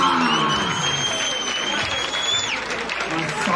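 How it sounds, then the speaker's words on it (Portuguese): Crowd applause and cheering at a Brazilian rap battle, loud and continuous throughout, with a whistle-like tone rising over the noise. "Uma salva de palmas!"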